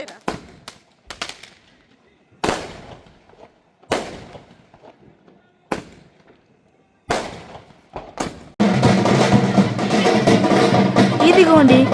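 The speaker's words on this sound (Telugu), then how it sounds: "గణేష్ నిమజ్జనం గ్రాండ్గా చేయాలని క్రాకర్స్ కూడా పేల్చాం" Firecrackers go off at a Ganesh immersion festival celebration: about seven sharp, loud bangs spaced a second or two apart, each fading quickly. A dense, continuous burst of crackling noise follows.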